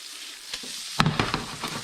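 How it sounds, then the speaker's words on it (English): Frying sizzles steadily, then sharper crackles and spatters burst out as squid hits the hot pan, close and moderately loud with no talking. "We'll let that sizzle down."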